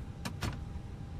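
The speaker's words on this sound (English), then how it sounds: "I got the door shut." The cabin door of an American Airlines jet closes in a flight simulator, giving two quick whooshing mechanical bursts close together over a constant low cabin hum.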